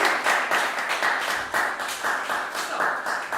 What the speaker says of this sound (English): I think he also needs a round of applause